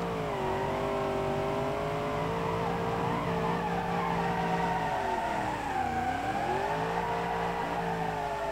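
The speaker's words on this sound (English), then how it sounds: "Turbocharged V8 in it, because why not? And you break the tires loose very easily." A turbocharged V8 car in BeamNG.Drive holds a steady, loud engine drone while its tires squeal and slip, with pitch sagging and rising again as the wheels spin, heard alone.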